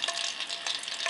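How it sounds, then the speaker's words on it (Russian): Hot oil sizzling in a pan as it heats for frying cheese balls, a steady, close, bright hiss with small crackling flickers, no talk. "Масло начало шкварчать"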